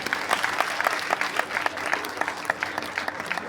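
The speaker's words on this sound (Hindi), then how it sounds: "युधिष्ठिर महाराज जी का एक बार ताली बजा कर स्वागत है।" An audience at a religious festival gathering applauds a revered guest, Yudhishthir Maharaj, with dense, moderately distant clapping that holds steady throughout.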